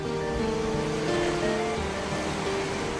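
Sea waves at Skagen, the northern tip of Denmark where two seas meet, wash in a continuous steady roar of surf, loud and close, with no voices.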